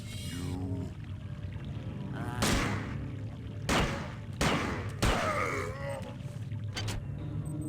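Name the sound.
gunfire in video game System Shock 2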